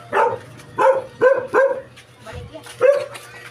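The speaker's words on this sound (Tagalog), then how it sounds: "Ayan pa yung aso." A dog barks repeatedly nearby, about five loud barks in uneven rhythm, with a bit of background noise between them.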